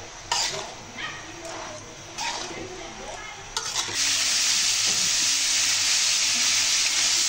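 Onion, chili, ginger-garlic paste and turmeric frying in oil are stirred with a spoon, first in short scraping bursts against the pan, then a loud continuous sizzle swells up close.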